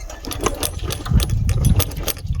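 A small motorcycle engine runs at idle nearby, sputtering unevenly with a loose, rattling chug, as it runs low on petrol.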